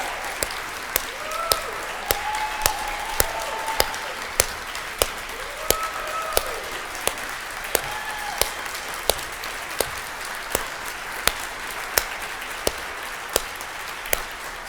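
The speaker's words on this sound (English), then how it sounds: "please stand for a moment and accept our gratitude and applause" An audience applauds at a closing-remarks gathering. The clapping is a steady, even wash with sharp individual claps standing out at regular intervals, fairly distant and moderate, and some faint voices and tones come through.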